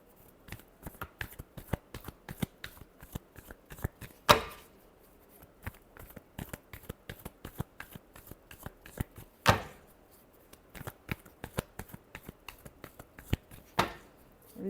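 Tarot cards are shuffled by hand in a long run of quick, crisp riffling clicks, with three louder slaps or taps standing out at intervals in an otherwise quiet room.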